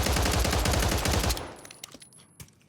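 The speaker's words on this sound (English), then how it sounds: "We're going to go ahead and give it a recoil test. We're just going to shoot as fast as we can." Binary-trigger pistol fired as fast as possible in Warzone on Rebirth Island, a dense burst of rapid shots for over a second, then a few scattered faint clicks and sharp taps.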